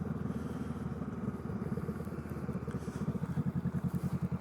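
Honda Rebel 500 motorcycle engine running steadily and fairly close, a continuous low rumble with rapid pulsing that grows slightly louder and more throbbing toward the end.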